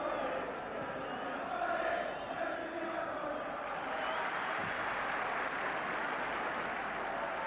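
A 1991 League Cup football match between Partick Thistle and Rangers draws a stadium crowd of about 12,500, heard as a continuous distant roar and murmur with slight swells in intensity.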